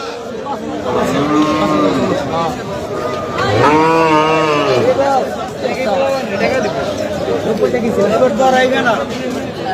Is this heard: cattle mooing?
yes